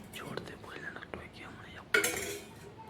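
A spoon clinks against a bowl while mixing an oily spiced filling for stuffed okra, one sharp metallic knock and scrape near the end after a soft whispery stretch.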